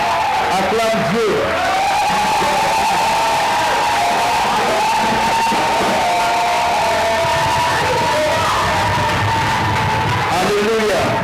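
Congregation at a prophetic church service in Côte d'Ivoire loudly acclaiming God, a sustained mass of shouting, cheering and whooping voices that swells and holds for over ten seconds.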